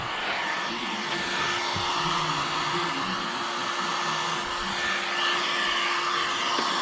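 A heat gun blows without a break while window tint is applied to a car. It makes a steady, loud, close hiss and whine with no voices over it.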